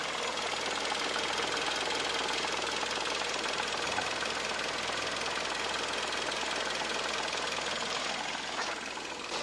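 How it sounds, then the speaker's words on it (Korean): A car engine idling with the hood open, a steady even mechanical hum and ticking clatter heard up close throughout. "일단 국내에 최적화되어 있는 그런 엔진 소리 이제 한번 들려드릴게요."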